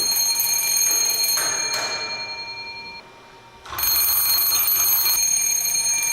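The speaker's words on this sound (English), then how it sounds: "the receiving coherer in the focus of another parabola makes a bell ring" An electric bell triggered by a coherer radio receiver rings with a rapid continuous clatter, fades and drops out briefly, then starts ringing loudly again.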